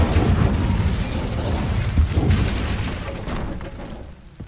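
The Incendio fire spell in the video game Hogwarts Legacy lands as a loud, rushing burst of flame, roaring broadly and slowly fading away over several seconds.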